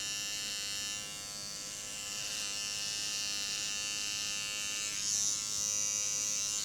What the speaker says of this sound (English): and then we're going to shave to it